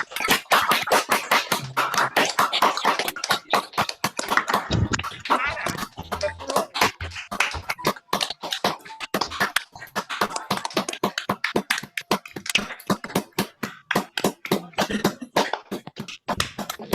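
An online audience claps after the 44th Foulkes Lecture, many unmuted participants producing dense, uneven hand claps that continue steadily for the whole stretch, some sharp and close, others softer, with a few faint voices mixed in.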